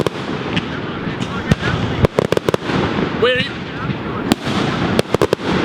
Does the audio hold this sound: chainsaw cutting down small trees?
no